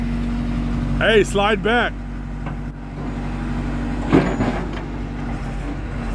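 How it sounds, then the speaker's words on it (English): An old John Deere 310D backhoe idles with a steady, low diesel drone throughout, while someone speaks briefly near the start and a clunk sounds partway through. "the old John Deere 310"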